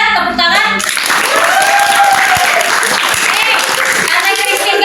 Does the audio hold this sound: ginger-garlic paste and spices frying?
no